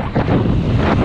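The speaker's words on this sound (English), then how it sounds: "You might be able to tell, pretty windy today." Strong wind buffets the microphone during a long road bike ride in Lincolnshire, a loud, continuous low roar with no voices.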